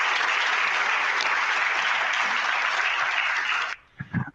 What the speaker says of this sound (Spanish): Por favor, un aplauso a la doctora Heike.